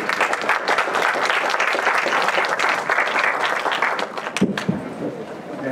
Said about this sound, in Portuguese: palma de palmas para a equipe